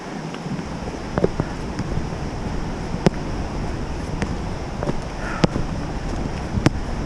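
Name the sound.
loud, high river rushing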